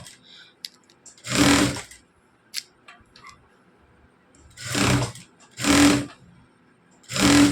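Sewing machine stitching a blouse in short bursts, four separate runs of whirring lasting about a second each with quiet pauses between, close and moderately loud with no talk.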